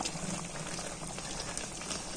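Tomato and chili hit a hot cooking pan for a Thai-style paprik stir-fry, giving a steady, faint sizzle with fine crackling spread evenly through the short stretch.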